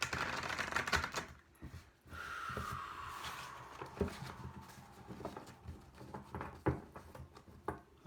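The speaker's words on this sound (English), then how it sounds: "One more shuffle." A Fountain tarot card deck is shuffled by hand in quiet, close papery flicks, soft riffles and light taps, with short pauses between bursts.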